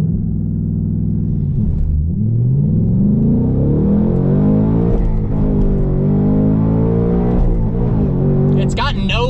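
A 2024 Ford Mustang Dark Horse with a six-speed manual accelerates hard. Its loud, continuous engine note climbs steadily in pitch through the revs, heard from inside the car.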